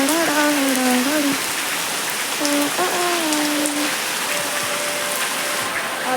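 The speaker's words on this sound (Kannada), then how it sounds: "ನೋಡಿ ಮಳೆ ನೋಡಿ ಗೈಸ್" Rain falls steadily and close by, pattering on surfaces throughout. Wavering voice-like tones rise and fall intermittently over the downpour.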